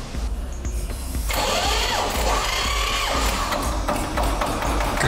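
Rossel diesel tractor engine cranks with a starter whine and then catches and settles into a steady, loud idle with a low, even rumble.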